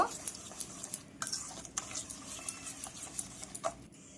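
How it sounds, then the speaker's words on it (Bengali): Eggs and sugar are beaten in a bowl with a whisk, giving a quick, rhythmic run of light clicks and taps against the bowl that stays soft and close throughout. "যতক্ষণ না চিনিগুলো গলছে ঠিক মতো ততক্ষণ আমরা ফাটিয়ে নেব"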